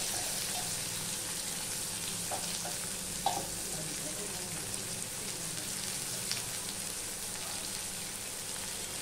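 A large onion hits hot oil in a pan for a fish curry, giving a steady soft crackling sizzle with small pops, fairly quiet and close.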